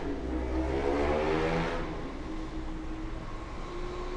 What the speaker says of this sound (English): That was a loud ass motorcycle.